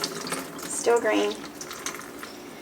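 Rinsed poke salat greens squeezed by hand in a bowl of water, giving soft, brief splashing and trickling close by, with a short spoken remark over it.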